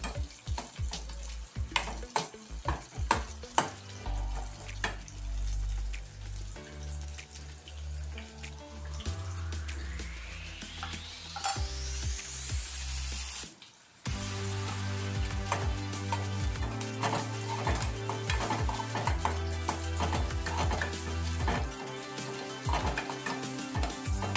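Onions fry in a pan for sambar, a sizzling, clattering stir with loud low knocks and scrapes, plus a stretch of rushing, rising water-like hiss midway.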